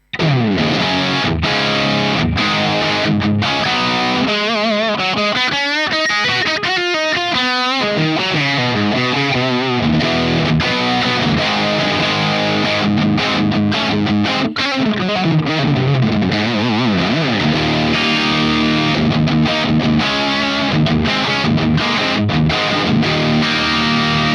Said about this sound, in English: So this features the channel B of the amp, and let's hear it without any effects.